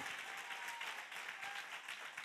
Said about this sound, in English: Come on, clap your hand, God, for his faithfulness.